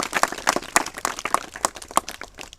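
Schoolchildren in a classroom in Jaunpur, Uttar Pradesh, clap for classmates' parents, a burst of uneven hand claps from a small group, close and fairly loud, fading toward the end.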